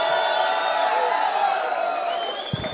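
A crowd at a DCS mixed martial arts event cheers and whoops for fighter Tanner Dickey, a steady broad roar filling the arena, with a ring announcer's amplified voice carrying over it and a brief thump near the end.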